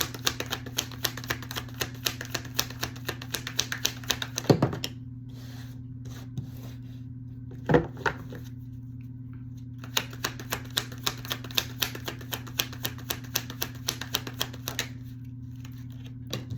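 Tarot cards shuffled and drawn by hand, a soft run of dry papery taps and rubs with a few sharper slaps, close and steady over a low constant hum, with no talking.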